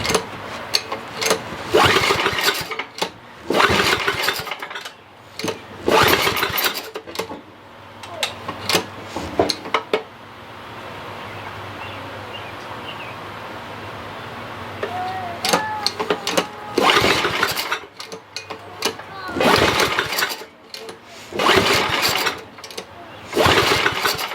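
An old Ariens rear-tine tiller engine gets repeated pull-start attempts, each one a burst of loud, close mechanical cranking and sputtering, separated by quieter pauses with low background hum.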